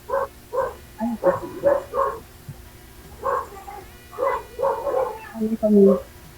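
Dogs barking on a road, heard over a phone line: bursts of repeated barks, fairly loud and slightly thin, mixed with people talking.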